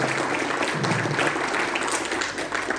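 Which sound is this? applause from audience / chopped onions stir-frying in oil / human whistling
applause from audience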